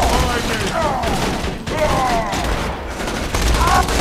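Rapid bursts of gunfire in the shooter game Borderlands, loud and continuous with brief dips, while voices talk over the shooting.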